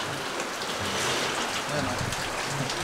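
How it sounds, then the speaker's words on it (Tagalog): Steady rain falls and patters on surfaces outdoors at close range, a continuous wash of drops with a person speaking briefly over it. "umuulan."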